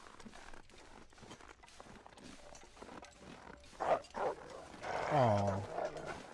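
A thin, malnourished puppy in the survival game The Long Dark whimpers and yelps in a short high whining burst near the end, preceded by a brief sound around the middle, over quiet game ambience and footsteps.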